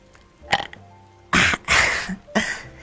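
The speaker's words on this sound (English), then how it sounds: "Uh-oh, here comes a burp." A single person burps several times in quick succession, loud and close, with a short burp first and then three longer, stronger belches.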